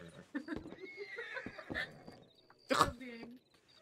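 A horse whinnies in a ranch roleplay video game, with a sharp, loud neigh near the end breaking through steady conversation from players.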